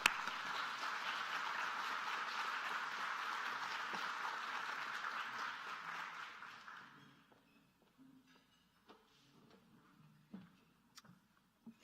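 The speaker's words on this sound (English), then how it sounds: "let's give you all a round of applause." Guests at a Rotary Club meeting receive a round of applause from the room, a dense burst of clapping that holds for several seconds, then fades into scattered claps and small taps.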